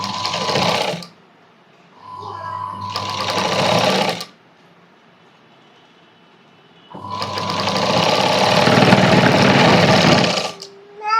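A sewing machine stitches tape onto the front of a cross-cut blouse with a loud, rapid mechanical whir in three bursts, the last and longest following a quiet pause.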